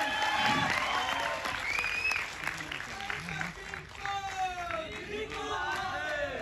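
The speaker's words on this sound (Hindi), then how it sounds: "एक बार जोरदार तालियां।" An audience at a Hindi film event for Sirf Ek Bandaa Kaafi Hai applauds and cheers steadily across the whole stretch, a dense, moderately loud wash of clapping with scattered shouts and whistles mixed in.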